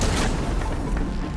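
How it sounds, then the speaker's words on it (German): A boom from an explosion in the video game Horizon Forbidden West, a dense, loud rumbling blast with a sharp onset that stays heavy and sustained through the short moment, with no talk over it. "Oh, da ist irgendwas explodiert."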